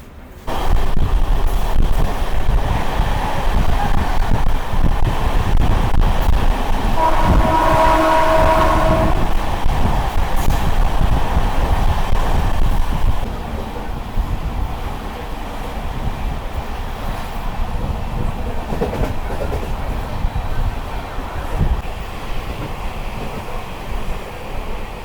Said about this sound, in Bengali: আমাদের বালুঘাট এক্সপ্রেস নন স্টপ 20-30 করে স্পিডে চলছে